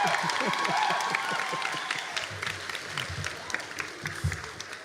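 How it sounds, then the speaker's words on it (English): Applause at a college nurse pinning ceremony, a loud wash of clapping that gradually thins and tapers over a few seconds as a voice begins speaking underneath. "let's give him a big round of applause"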